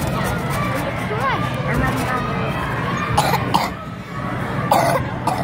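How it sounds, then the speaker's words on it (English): A child coughs sharply several times and clears the throat in a car, through noisy background chatter and murmuring voices nearby. "Cover your mouth. You gotta cover when you cough."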